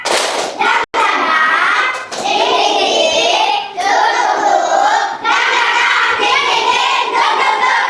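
Children clap in unison during a classroom cheer, a dense, loud burst of hands sustained for several seconds with a brief gap near the start and young voices mixed in.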